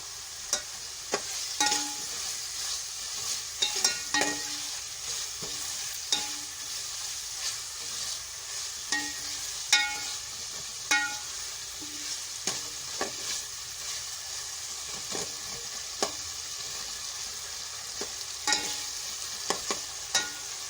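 Chickpeas (chole) fry with a steady sizzle in a pan while a spoon scrapes and stirs them in repeated light clatters, close and continuous with no talk.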